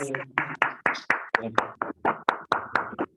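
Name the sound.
audience applause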